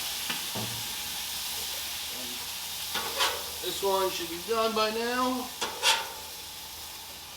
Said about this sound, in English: you just spritz a little bit of water underneath. Really steam it right up.